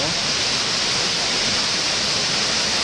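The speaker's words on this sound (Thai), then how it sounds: "นี่ครับคือบรรยากาศของน้ำตกในหน้าหนาว" A waterfall at Jiuzhaigou in winter, with snow falling, pours out a steady, dense rushing roar that stays loud and even throughout, with no voices over it.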